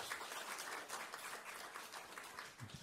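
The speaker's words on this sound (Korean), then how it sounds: "박수 한번 주세요" Audience in a church revival meeting applauds a visiting guest, with steady dense clapping throughout.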